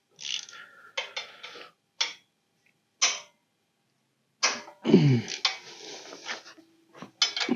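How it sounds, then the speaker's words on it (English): Hand tool working loose 14mm bolts on a generator: scattered metallic clicks and ratcheting taps in short bursts with silent gaps, close by, a heavier clank near the middle. "just break them loose with the hand tool, and then I'll switch to the impact to zip them out"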